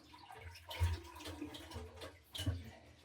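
A flushed toilet tank refills with water during a repair, a steady rushing hiss with a low hum underneath and two brief louder surges along the way.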